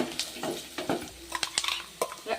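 Ground raw mango paste hits a hot pan and sizzles while a spoon scrapes and stirs in quick, irregular strokes, close and moderately loud with no talking.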